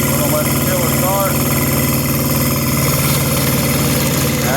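A tractor engine idles up in neutral while its rear tiller starts, a loud, steady mechanical drone with rhythmic low vibration and a persistent hum, continuous throughout, with speech over it.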